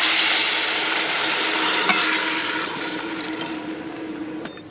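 Ham bone broth poured into a pressure cooker, a close continuous rushing splash that gradually tapers off over several seconds.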